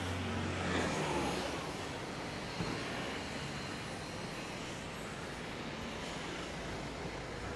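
Road traffic grinds past a street corner with roadworks in Kato Paphos, a dense steady rumble of engines and tyres close by that holds for several seconds with no talk.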